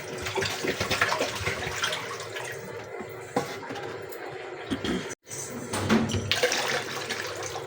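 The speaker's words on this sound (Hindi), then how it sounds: "अपना 1 लीटर पानी ऐड करेंगे।" About a litre of water is poured into a cooking pot to make whole-grain kheer. The water rushes loudly and steadily, breaking off briefly partway through, then splashes on.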